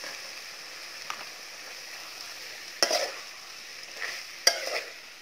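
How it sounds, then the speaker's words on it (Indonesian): Clams fry quietly in a pan as they are stirred, a low steady sizzle broken by a few scraping stirs and two sharper clacks of the utensil against the pan. "Kita aduk."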